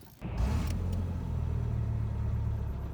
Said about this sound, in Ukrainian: пробую завести автомобіль